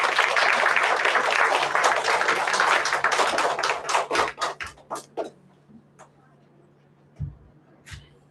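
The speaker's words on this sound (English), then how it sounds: "So, let's call Akshay with a big round of applause." Audience applause at a school graduation performance, a dense burst of many hands clapping that thins into scattered individual claps and fades to near silence, with a couple of isolated claps at the end.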